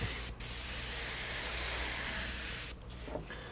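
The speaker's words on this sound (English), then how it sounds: "Just spray it the way the stencil has it." An airbrush sprays paint over a stencil on a helmet, a loud steady hiss held close for a few seconds, then a brief break and softer, sputtering bursts.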